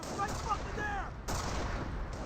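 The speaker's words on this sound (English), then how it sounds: "Sniper's firing away, get some good damage down to the Volks Grenadiers" A sniper rifle firing in the Company of Heroes strategy game, with dense battle gunfire and artillery rumbling continuously throughout, loud and busy, with a sharp burst near the middle and another toward the end.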